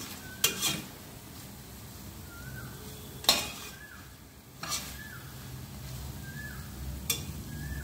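Paneer stirred into masala in a pan makes a quiet, low sizzle, broken by a few sharp scrapes and clinks of a spoon on the metal.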